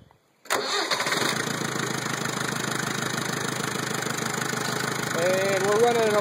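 An International 364 tractor's BD-154 diesel engine cranks and catches abruptly, then settles into a steady, loud, rhythmic idle with a slight rise in pitch near the end.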